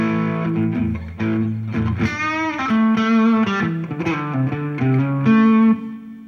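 An electric guitar played through a distortion pedal gives harsh, edgy sustained chords and single notes, loud and close, with a few phrase changes and no talking.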